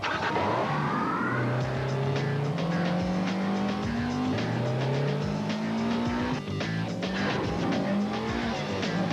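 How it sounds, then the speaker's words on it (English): A 240-horsepower Honda S2000 Roadster sports car is driven hard, its engine revving through rising gear sweeps amid squealing tires and skids, loud and continuous throughout. "Introducing the 240 horsepower S2000 Roadster from Honda."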